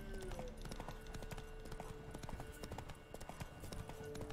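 Horse hooves clip-clop in a steady trotting rhythm in The Witcher 3, a quiet, continuous patter over faint game music.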